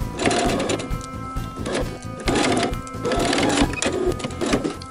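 A sewing machine stitches a bulky tote bag seam at a 1/2 inch allowance, running in steady mechanical bursts with short pauses between runs, including a brief reverse back tack. It is close and fairly loud, with no talking.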